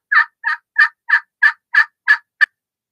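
A wooden striped turkey call made of alternating walnut and oak strips gives eight sharp, evenly spaced yelps. The yelps sit close and clear, the last one shorter, with silence around them.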